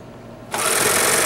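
A Babylock serger sewing machine starts up after a short quiet moment and then runs steadily at high speed, with a close, loud, continuous whirring hum.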